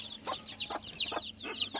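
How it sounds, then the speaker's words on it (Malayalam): Native spotted chicken chicks give a run of high, short cheeps in quick bursts, close and fairly quiet, with a low steady hum underneath. "ആ സൈഡിലൊക്കെ നിൽക്കുന്ന നല്ല പുള്ളിക്കുഞ്ഞാണ്. ഇതെല്ലാം പുള്ളിയാണ്, എല്ലാം പുള്ളികളാണ്."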